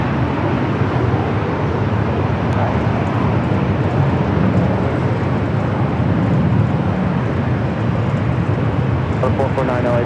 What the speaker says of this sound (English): Cathay heading up for a north side at takeoff, the flight heading back to Hong Kong